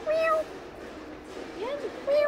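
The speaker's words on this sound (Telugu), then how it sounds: "క్యాట్ ఉంది చూడండి ఇక్కడ" A stray cat near a shop meows loudly, once at the start and once at the end, with quieter sounds in between.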